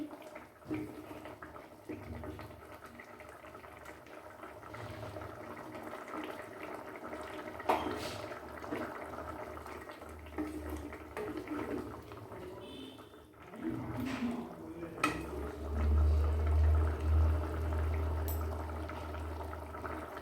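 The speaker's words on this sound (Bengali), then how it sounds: "দেখো বন্ধুরা মাছগুলোও দিয়ে দিয়েছি দিয়ে এবার ফুটিয়ে নিচ্ছি" Fish curry simmering in a pan, a steady bubbling and sizzling broth with soft stirring and clatter, growing louder and more vigorous near the end.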